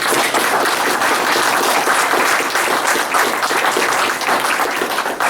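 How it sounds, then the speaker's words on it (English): An audience at a historical society gathering in a city library claps in a dense, steady round of applause that holds at full strength for about five seconds, with no voices heard above it. "We're going to give you a round of applause."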